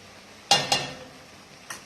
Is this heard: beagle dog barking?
no